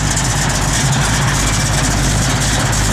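A 1972 Plymouth Cuda idles loudly and close up, a steady, dense rumble with a constant low throb and no talk over it.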